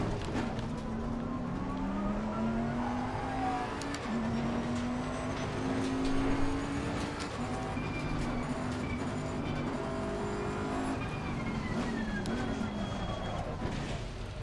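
Bentley GT3 race car lapping in Assetto Corsa Competizione during qualifying, a steady engine drone with rising and falling gear-change sweeps that fill the whole stretch at an even, moderate level.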